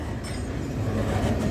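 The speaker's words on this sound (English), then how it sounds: "Good size steel train." A heavy steel train rumbles steadily past nearby through the Bluescope steelworks yard at Hastings, a continuous low roar with faint rhythmic clatter of wheels on rails.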